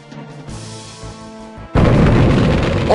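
Napalm weapon exploding in the tank battle video game Pocket Tanks: game music plays, then at once a loud, close, booming blast that holds as a dense roar for over a second.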